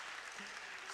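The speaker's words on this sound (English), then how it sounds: "So a round of applause for her again." A brief, faint round of applause at a 70th birthday celebration for an audience member, a soft continuous wash of distant clapping.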